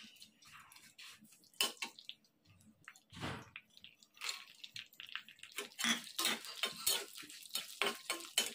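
Sorrel (gongura) fried rice with onions being stirred and roasted in a pan, close, irregular scrapes and clinks of a spoon against metal that grow busier and louder toward the end, no voices.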